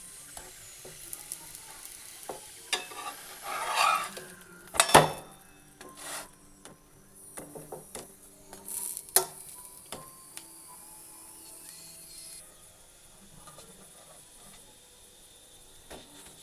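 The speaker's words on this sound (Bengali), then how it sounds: "এটাকে এইভাবে চেপে চেপে ভেজে নিচ্ছি" A broccoli snack for a children's tiffin is pressed down in a hot pan and fried, giving soft intermittent sizzling with scraping and pressing clatters, a few sharp clicks near the middle, then fading to a quiet hiss.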